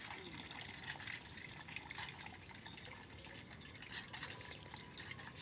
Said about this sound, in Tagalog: Oh, may lumabas na tubig ah.